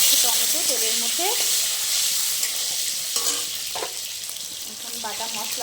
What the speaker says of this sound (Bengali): জিরা দিয়ে দিলাম, জিরা ফোড়ন, তেজপাতা, দারচিনি, এলাচ দিয়ে দিলাম, টমেটো তেলের মধ্যে।